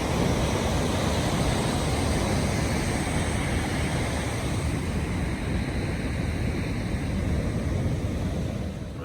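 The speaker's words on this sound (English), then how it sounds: "Here's what the beach looked like yesterday." Steady surf on a Southern California beach on a mellow day, a continuous broad wash of breaking waves heard close with some wind rumble on the microphone, no voices.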